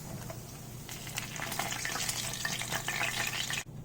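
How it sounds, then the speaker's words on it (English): Fish frying in peanut oil gives a soft, continuous sizzle with scattered crackles and pops, close by and quiet, with no talking. "I fried about 10 minutes."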